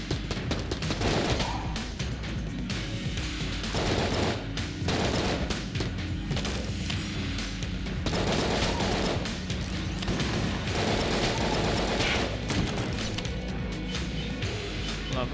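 Rapid, continuous gunfire from the video game Enter the Gungeon, loud dense bursts of shots with brief pauses, running the whole length with game effects layered in.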